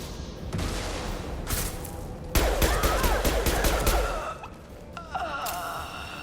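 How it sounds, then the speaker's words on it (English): High-impact shot gunfire in the Mass Effect 2 video game, loud sharp blasts followed by a dense rattling burst of rapid shots and fading echoes, with no talk over it. "Firing a high impact shot."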